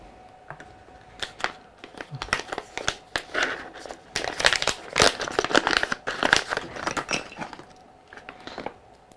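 Plastic packaging crinkles and rustles in bursts while an aluminum M-LOK three-slot Picatinny rail is unwrapped, with light clinks from small loose parts, close and fairly loud.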